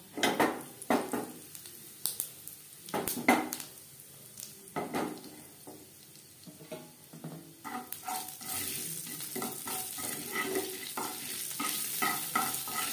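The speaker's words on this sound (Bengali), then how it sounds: "কুড়ি 25 সেকেন্ড ভেজে নেব" Five-spice seeds and dried red chillies frying in oil in a pan, with irregular spatula scrapes and knocks over a low sizzle that grows into a louder, steady crackle near the end, and no speech.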